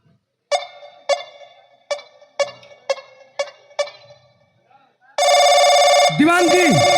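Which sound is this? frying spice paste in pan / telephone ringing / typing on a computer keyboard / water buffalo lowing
telephone ringing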